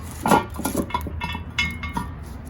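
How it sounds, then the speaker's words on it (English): A lid is set back onto a pot over a campfire while baking buttermilk biscuits, giving a few close metallic clanks and clinks with light scraping between them. "And we're gonna get the lid back on"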